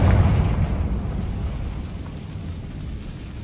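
A Confringo blasting spell explodes in Hogwarts Legacy: one loud, deep boom that starts sharply and then fades into a rumbling tail lasting several seconds.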